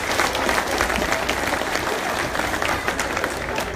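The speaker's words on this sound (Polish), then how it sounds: "Rafale, wielkie brawa, Rafał Kycko." Audience applause at a sports club's team presentation, a dense steady burst of clapping from a crowd lasting a few seconds, fairly close and loud.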